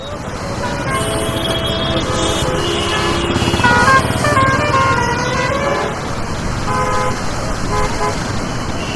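Heavy city traffic streams across a busy overbridge, a constant engine roar broken by repeated car horns honking near and far, with talk heard over it.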